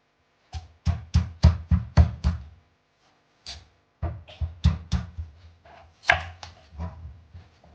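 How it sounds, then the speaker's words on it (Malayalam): Knife chopping steamed sweet potatoes on a cutting board, a quick run of six sharp thuds, a pause, then another irregular burst of firm chops, close and clear with no talk. "നല്ല കട്ടി ഇനി അതിനെ കട്ട് ചെയ്യാം"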